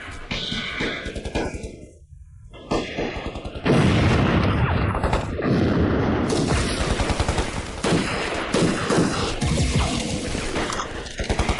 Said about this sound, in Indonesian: Penembak senapan mesin.